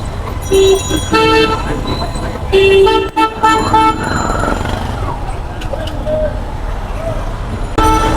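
Busy road traffic in a jam at Steel Mill Bazar, engines rumbling and car horns tooting repeatedly, several short honks overlapping near and far, with voices in the background.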